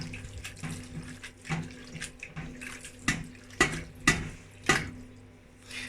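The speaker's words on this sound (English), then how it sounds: "Nice clean hands, and just washing the curds" Farmer's cheese curds are rinsed by hand under running water, a steady faucet stream in a sink with splashes and sloshing bursts as the curds are washed.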